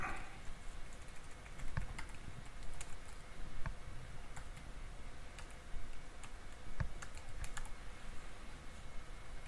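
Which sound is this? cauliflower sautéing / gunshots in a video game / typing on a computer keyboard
typing on a computer keyboard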